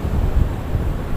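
An air-conditioning blower at Bangkok's Bang Sue station gives a loud, steady low rush of air right at the microphone, buffeting like wind.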